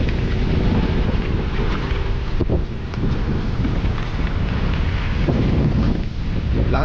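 Strong wind roars across a sandy beach resort in Nasugbu, Batangas, buffeting the microphone with a loud, continuous low rumble that swells and dips for about seven seconds without any talking.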